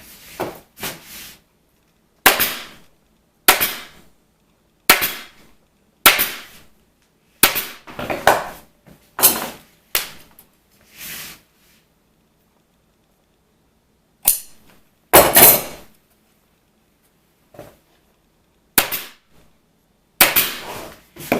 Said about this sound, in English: we're going to staple it right along the inside